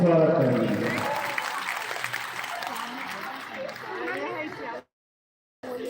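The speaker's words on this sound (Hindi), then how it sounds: "आप लोग खूब प्रेम से जोरदार ताली से स्वागत करेंगे।" An audience at a Sita Navami religious festival breaks into a round of applause after a brief spoken introduction, a steady patter of clapping that fades out before cutting to silence.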